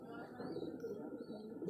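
Madrasi pigeons kept for sale cooing in soft, low, rolling calls, close and continuous over a short stretch with faint background sounds, no speech heard.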